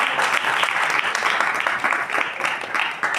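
A congregation claps during a Christian sermon, producing a brief, dense burst of applause that rises and falls in small waves for about three seconds, with no speech over it.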